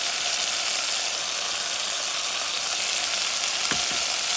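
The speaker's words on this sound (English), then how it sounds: "And you stir these things around because you don't want it burning." Olives sizzling and frying in a hot pan while being stirred, a steady bright crackle with a couple of soft scraping stir sounds near the end.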